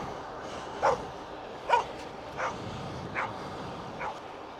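Small dogs bark in a town street, five sharp separate yaps spaced roughly evenly, the first two loudest and the later ones fainter, heard at moderate distance over low background noise.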